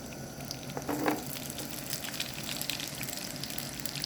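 Chopped onions, cut medium and slightly larger than usual, hit a hot pan with a steady broadband sizzle, with a brief louder crackle near the start before settling into even frying.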